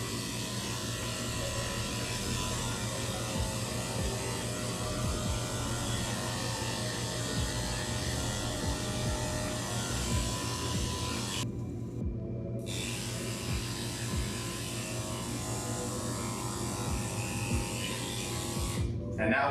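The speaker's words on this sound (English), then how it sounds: "Now we can start shaving." Electric clippers shave a Shih Tzu during grooming, a steady close buzzing hum that runs for the whole stretch with two short breaks and keeps an even loudness.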